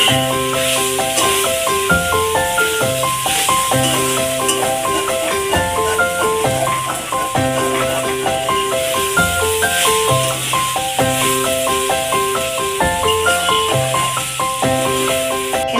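Spiced figs sizzle in a pan as they are stirred, giving a loud, steady hiss that runs throughout alongside background music.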